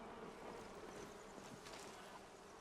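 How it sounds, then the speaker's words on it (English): Faint, steady buzzing of bees around a beehive in Palia, a low continuous drone under soft wind-like ambience, with no one speaking. "I was like, why do I hear bees?"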